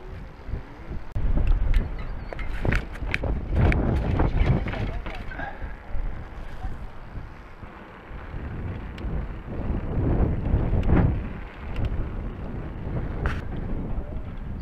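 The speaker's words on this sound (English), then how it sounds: "No kidding, windy, right?" Strong, gusty wind buffets the microphone during a bike ride in Bahrain, a rough continuous roar that swells and fades, with people talking now and then.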